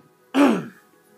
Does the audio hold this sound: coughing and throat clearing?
yes